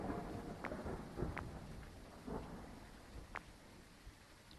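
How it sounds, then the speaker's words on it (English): Thunder rumbling through a rainstorm in the horror game Phasmophobia, with low rolling booms and sharp cracks over a steady bed of falling rain, no voices. "Man, that thunder is kind of loud."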